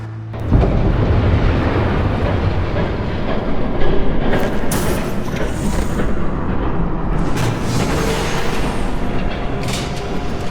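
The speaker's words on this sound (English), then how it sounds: "There's a train coming." A train approaches in the Batman Telltale Series video game, a heavy rumbling roar with rattling wagon clatter that swells in after a quiet start and stays loud and close, with bursts of metallic screech.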